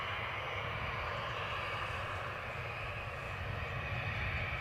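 Airplane taxiing at Newcastle airport, a steady broadband engine roar with a deep low rumble, continuous and fairly loud throughout with no talking.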